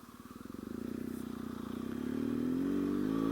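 A 2016 BMW R1200 GSA boxer engine runs steadily while riding, with a loud, throbbing rumble that rises in pitch as the bike accelerates, continuous and close.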